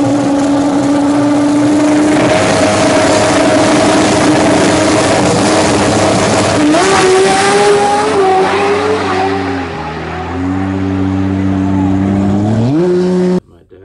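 A loud Toyota 2JZ engine in a 1996 Lexus GS300 revs hard and holds high, then shifts through gears with pitch dropping and climbing again before cutting off abruptly.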